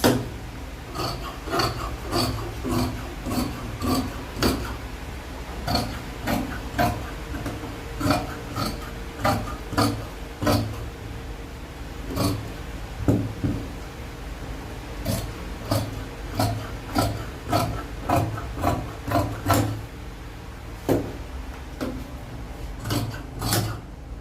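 Scissors cut through fabric for the back yoke of a padded top, giving a steady run of crisp snips and rasping blade strokes, close and fairly loud with no talking.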